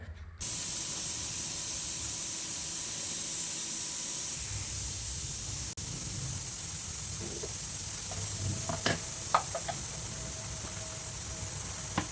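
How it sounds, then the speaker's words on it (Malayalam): A pressure cooker boiling potatoes hisses steadily with a continuous spray of steam throughout, joined near the end by a few short sharper bursts and clicks, alone with no voices. "കിഴങ്ങ് വെന്ത് കുക്കർ വിസിലടിച്ചുകൊണ്ടിരിക്കുകയാണ് കേട്ടോ"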